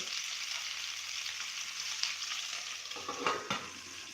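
Tomatoes for red chili chutney sizzle and fry in a pan, a steady close hiss with a few stirring scrapes near the end.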